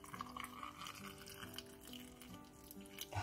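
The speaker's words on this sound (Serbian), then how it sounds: "E, sada idemo sa vrućom vodom. Da napunimo svaku teglu." Hot water from a kettle is poured into glass jars of zucchini preserves. It makes a faint, continuous trickling and splashing that carries on for a few seconds without talk.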